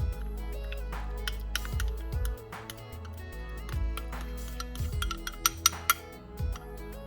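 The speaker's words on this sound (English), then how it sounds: "And mix the kimchi with the rest of the ingredients." A spoon clinks and scrapes in a bowl as chopped kimchi is folded into a salmon patty mixture with almond flour, irregular taps and knocks over a steady low background hum.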